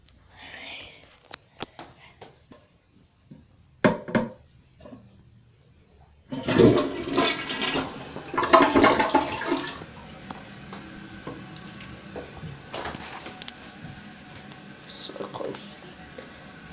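A 2011 Kohler Wellworth toilet rated at 1.6 gallons per flush gives a loud, rushing flush of about ten seconds that fades into a steady refill trickle, after some quiet handling noises and brief talk.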